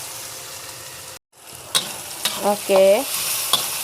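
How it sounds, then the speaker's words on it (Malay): Onions frying in a pan, then fish curry paste and blended dried chili added, giving a loud burst of sizzling after a brief gap, with stirring clatter and a short spoken word. "kita biarkan bawang kita naik bau ataupun jadi garing, baru kita masukkan kari ikan sama dengan cili kering tadi sudah saya blender"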